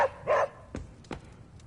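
Puppy yapping in the video game Marvel's Midnight Suns, with a couple of short close barks and yips at moderate volume, alone with no talk.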